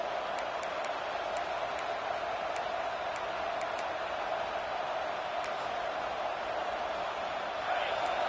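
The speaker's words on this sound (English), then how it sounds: "It's early, but this crowd is fired up. Listen to this noise here." Roaring football stadium crowd early in a game, a dense steady wash of cheering noise that holds at an even loudness throughout with a few faint high ticks on top.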